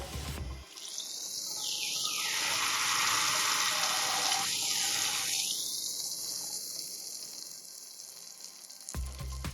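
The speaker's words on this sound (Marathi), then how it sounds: "आता या स्टेजला आपण दूध ऍड करून घेऊया" Milk is poured into a hot pan of semolina kheer, where dried fruit and coconut have been toasted in ghee. A loud, close hiss swells and roars for several seconds, then fades, with a few light clinks at the end.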